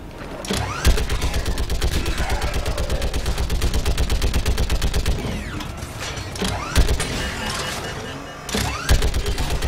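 Rapid automatic weapon fire from the Mass Effect 3 video game, a long sustained burst of evenly spaced shots that pauses briefly and then resumes, loud and close and set against game ambience.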